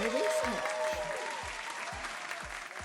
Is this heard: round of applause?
yes